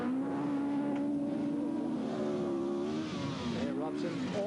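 Rally car driven by Blair Robson at a televised rallysprint, its engine roaring and shifting pitch as it passes at speed, loud and continuous, with a commentator talking over it.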